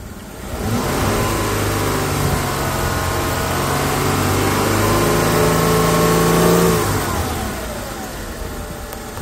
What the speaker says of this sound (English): Rev the engine, give it some gas.